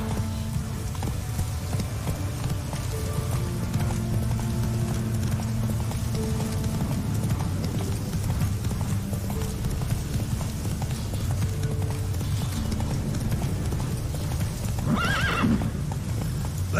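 Horse galloping across open ground in The Witcher 3, a steady rolling clip-clop of hooves with a whinny near the end, loud and continuous over ambient game music.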